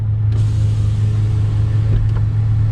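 A tuned car engine, from a 2020 Civic Si or a Ford Focus ST, idles with a steady low rumble heard from inside the cabin, with a faint shift in tone partway through.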